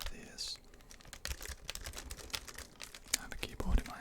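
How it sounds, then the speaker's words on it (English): A computer keyboard is handled and tapped close to the microphone in an intimate ASMR setting, with scattered clicks and soft rustles under quiet whispered talk. "I have a keyboard in my hands."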